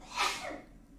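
One short, close sneeze from a person: a sharp burst of breathy noise that quickly fades into quiet breath.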